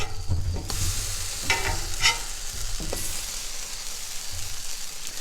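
Sausage patties sizzle on a Blackstone flat-top griddle, a steady frying hiss broken by a few scraping spatula strokes and clanks as they are turned, close and fairly loud.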